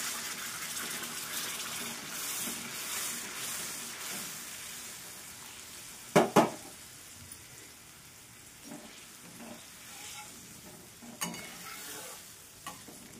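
Water, including rinse water from a mixer jar, is poured into a pan of simmering mung-dumpling (mugvada) masala curry, giving a soft watery splash amid a low continuous sizzle, with a couple of sharp clinks midway.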